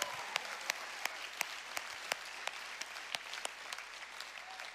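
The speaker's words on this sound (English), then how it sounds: "Could we have a hand clap for all the baptisms again?" Audience applause in a church service honouring baptisms: a steady, fairly quiet wash of many hands clapping with sharp individual claps standing out, continuing evenly throughout.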